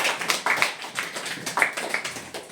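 A classroom of students claps for a classmate, a burst of loose, uneven hand claps close by, with no voices over it.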